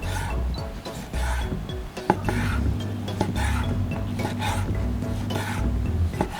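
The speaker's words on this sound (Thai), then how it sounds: "เดี๋ยวเราจะมาหั่นเนื้อเป็นชิ้นๆก่อนนะคะ" Beef being sliced into bite-sized pieces for a neighboring-country coriander beef salad, heard as close knife taps and scraping on a board with some clatter of kitchen utensils and a low steady hum underneath.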